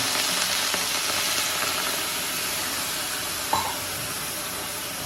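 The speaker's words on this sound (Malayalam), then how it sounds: "സേമിയ ഉപ്മാവ് ഉണ്ടാക്കുമ്പോൾ എപ്പോഴും ഇതുമാതിരി വറുത്ത ശേഷം തിളച്ച വെള്ളമാണ് ഒഴിക്കുന്നത്" Boiling water is poured onto roasted vermicelli in a pan while making semiya upma, giving a steady sizzling hiss with a brief bubbling burst partway through.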